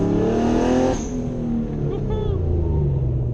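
Nissan Fairlady Z fitted with an R35 GT-R exhaust revs loudly and steadily up close, its deep roaring engine note filling the whole moment without a break.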